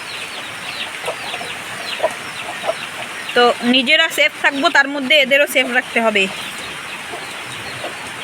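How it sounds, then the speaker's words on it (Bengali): Frightened chickens huddled together during a flood keep clucking in agitated bursts, with voices talking over them. "মুরগিগুলো ভয়তে এক জায়গা একদম পুরো জড়সড়ো হয়ে গেছে"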